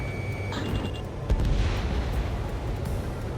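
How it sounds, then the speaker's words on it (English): A missile launch in the Ace Combat 7 video game, heard as a sudden whooshing burst with a low boom about a third of the way in, followed by a sustained roar amid steady game ambience. "Missile launched."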